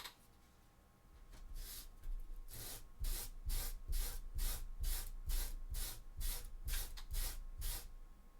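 Rhythmic back-and-forth sanding on a cosplay chainsword prop, about a dozen quick, evenly spaced abrasive strokes building after a quieter start, close and steady with no voices.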